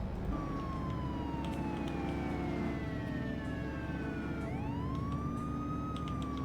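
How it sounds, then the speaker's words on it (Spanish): Police car siren in a driving game wails continuously with long, gliding pitch sweeps, then jumps to a fresh rising cycle, all over a steady engine drone and road noise. "La sirena."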